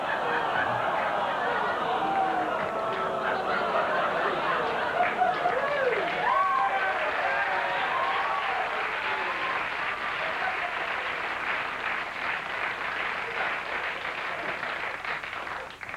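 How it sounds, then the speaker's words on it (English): A late-night television studio audience reacting, a sustained mix of murmuring, scattered laughter and applause that shifts and settles into steadier clapping, heard over the whole stretch. "my favorite crowd reaction, horror blending into acceptance"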